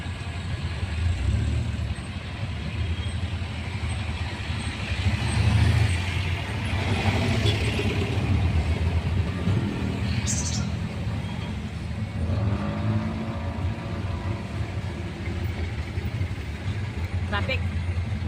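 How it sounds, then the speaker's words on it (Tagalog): Street traffic of cars and motorcycles passes near a junction, recorded from a tuktuk: engines rumble and swell past at close range, with a brief brake hiss, while people talk throughout. "Traffic."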